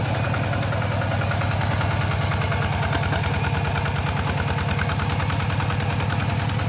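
A small two-wheel walk-behind tractor engine, used for ploughing a rice paddy, chugs steadily at close range, a fast regular thumping with a rattly metallic edge, running without pause.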